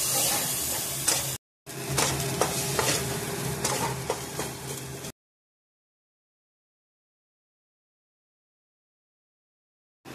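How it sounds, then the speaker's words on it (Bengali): A spice paste fries with tomato and ginger paste in a pan, giving a dense, continuous sizzle with repeated scraping stirs for about five seconds. A brief gap interrupts it, and it then cuts off into silence. "দিয়ে মশলাটাকে কষিয়ে নেওয়া হচ্ছে টমেটোর সাথে"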